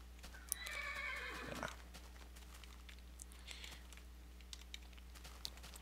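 A Minecraft horse gives a loud whinny near the start, then its hooves clip-clop in scattered light beats, alongside faint keyboard typing and a low steady hum.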